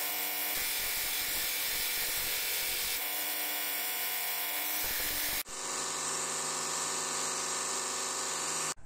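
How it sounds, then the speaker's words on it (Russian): A bench grinder wears down a small metal washer, giving a loud, steady, high-pitched grinding whine that runs the whole time, with pitch and load changing as the washer is pressed to the wheel. "одну из них обточим на гриндере"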